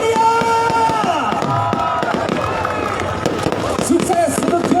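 Fireworks bursting at a public celebration in Cilacap, Central Java, with dense overlapping crackles and pops over a loud crowd and background music, continuous and close throughout.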